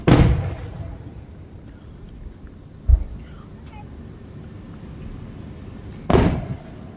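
Fireworks burst outdoors near a lake during a celebration, with three sharp booms several seconds apart, one loud, one brief and one rumbling, over faint background noise.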